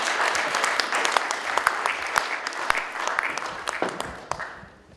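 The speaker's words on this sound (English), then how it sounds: "Give her a big round of applause." An audience at a conversation event applauds warmly, dense continuous clapping that tapers off toward the end.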